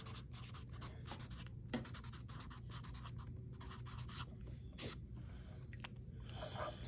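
Water-soluble graphite pencil scratching marks onto paper, close and quiet, in rapid bursts of short strokes separated by brief pauses, with low steady room hum underneath.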